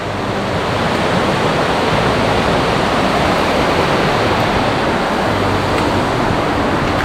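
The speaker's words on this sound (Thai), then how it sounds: "ตรงนี้ก็จะเป็นน้ำตก น้ำตกภูสายดาว" A waterfall on Phu Soi Dao after rain gives a steady, loud rushing roar of falling water that fills the whole scene without a break.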